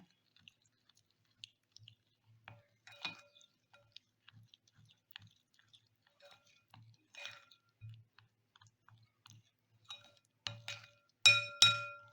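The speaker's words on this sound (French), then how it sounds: "Mélanger jusqu'à ce que on obtienne une pâte homogène." Cocoa is mixed into a smooth paste in a bowl, heard as sparse, quiet clinks and soft scrapes of a utensil against the bowl that grow busier and louder toward the end.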